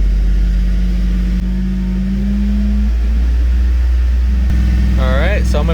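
2007 Chevy Silverado engine revved and held near 2,500 RPM, a loud steady mid-low drone that stays level throughout, heard up close with someone talking over it.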